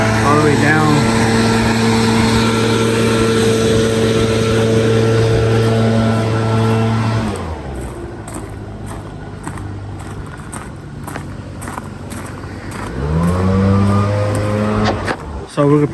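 Gas leaf blowers clearing trash and leaves out of hedges on a Florida lawn, a loud close roaring drone that drops away midway and swells back near the end, with people talking in between.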